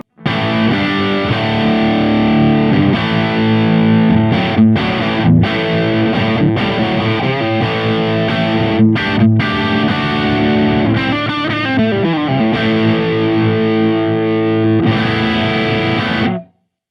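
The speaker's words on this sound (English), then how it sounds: "So that's the full range sound of the Kemper Kone." A heavily distorted electric guitar plays loud riffs and sustained chords through a full-range Kemper Kone speaker, with brief stops and a final ringing chord.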